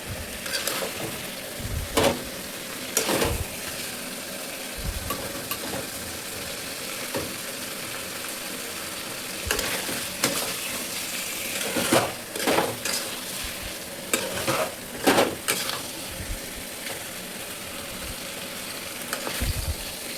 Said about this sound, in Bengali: মাংসটা পুড়িয়ে রাখবো